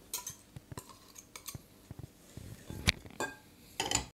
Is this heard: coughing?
no